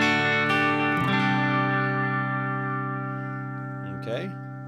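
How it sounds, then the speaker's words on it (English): Guitar through a Headrush Gigboard delay with its feedback low pass filter darkening the repeats: sustained chords ring out and decay smoothly into mellow, softened echoes, with a voice speaking faintly over the tail. "We can darken it up with the feedback low pass filter."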